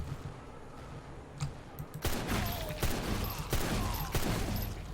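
Pistol gunfire in the video game MRO, a burst of sharp, loud shots that starts about halfway through and keeps cracking repeatedly over a busy game background, with no talking.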